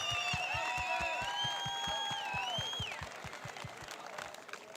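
Crowd applause at a lacrosse grand final between the Sydney Seahawks and Adelaide Redbellies, sustained clapping with cheering and whistles, easing slightly toward the end.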